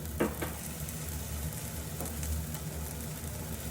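A small splash of oil sizzles in a hot frying pan, a steady, even hiss that continues without break, with a faint knock near the start.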